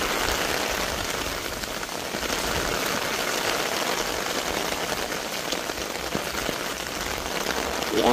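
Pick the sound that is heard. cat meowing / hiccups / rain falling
rain falling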